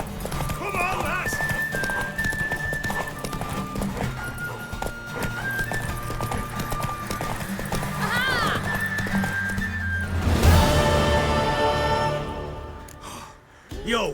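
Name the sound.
horse galloping in a video game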